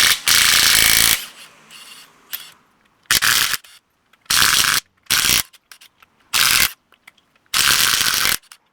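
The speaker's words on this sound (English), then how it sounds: "It's a 22 millimeter lug nut, so we're going to use that real quick and get that wheel off." Impact wrench removing 22 mm lug nuts from a Jeep Gladiator wheel, loud close bursts of rattling hammering, one long burst then several shorter ones separated by quiet pauses.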